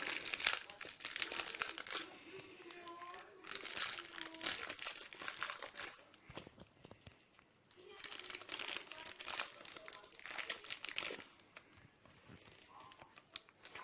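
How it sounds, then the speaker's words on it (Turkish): Crinkly plastic packaging is torn and crumpled open around a new Barbie doll, with bursts of rustling and crackling that come and go close by, easing off briefly in the middle. "Bu paketi daha açmadım. Evet açıyorum."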